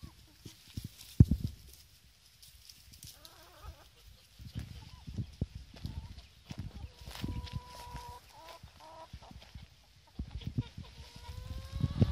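Chickens cluck and squawk in short bursts amid outdoor rustling and thuds, with a voice speaking now and then, as the hens go after a small snake they caught.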